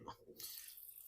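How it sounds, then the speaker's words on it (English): A small splash of water poured into a bowl of egg whites with cinnamon, a brief close pour that follows a moment of talking and then trails off into a soft hiss. "So I'm giving it a little splash of water."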